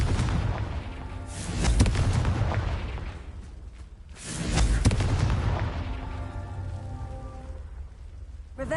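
Confringo blast spells explode in Hogwarts Legacy, two heavy booming detonations a few seconds apart, each with a crackling rumbling tail over a background game soundscape.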